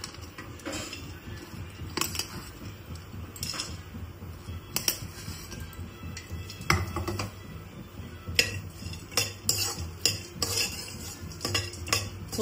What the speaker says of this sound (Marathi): तर आपण एक एक करून थोडंसं भाजून घेऊया ड्रायफ्रूट्स.